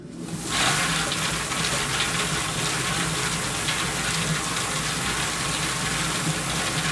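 An 8-gallon popcorn cooker machine runs with a loud, steady broadband whoosh that starts abruptly and holds evenly throughout, close and continuous.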